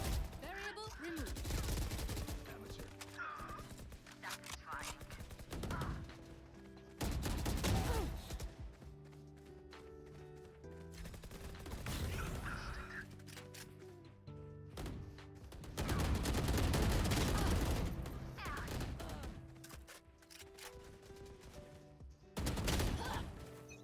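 Rapid bursts of gunfire in a shooter video game, loud and close, come in repeated volleys with brief pauses, layered over steady game music and effects; voices talk intermittently beneath the shooting.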